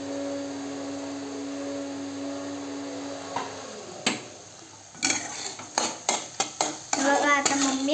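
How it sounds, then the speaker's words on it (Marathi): Vegetable dish in a pan with crushed peanuts being stirred, a steady hum giving way to a run of close scraping and clinking strokes from a spoon against the pan. "बघा आता मम्मी हलवत आहे."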